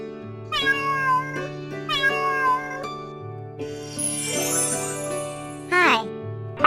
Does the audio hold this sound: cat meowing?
yes